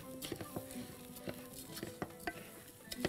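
Brown rice sautés in a pan while a spoon stirs it, giving soft scraping strokes and light taps against the pan in an uneven rhythm over a faint sizzle, close and quiet.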